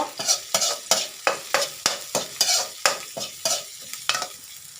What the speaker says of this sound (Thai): ผัดกะเพราจ้า ผัดกะเพราพริกเขียว